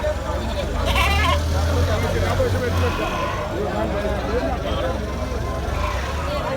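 Goats and young kids bleat at a busy festival livestock market in Kerala, repeated calls close by over constant crowd chatter and the hum of passing vehicles.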